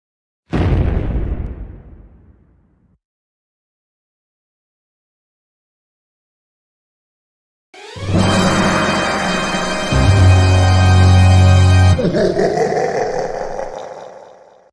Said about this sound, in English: We better get out of here before the bomb explodes